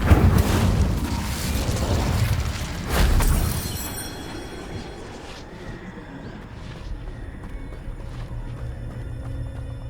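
The Incendio fire spell is cast in Hogwarts Legacy, opening with a loud roaring burst and crackling flame that surges around three seconds, then fades into a low, quieter mechanical hum and faint ambient rumble.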